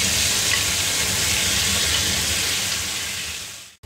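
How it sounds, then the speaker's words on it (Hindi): Mutton pieces dropped into hot oil in a pan for Hyderabadi dry-fried meat in green masala, giving a loud, steady, close sizzle and crackle that holds throughout and cuts off at the end. "अब ये गोश्त तेल में छोड़ेंगे।"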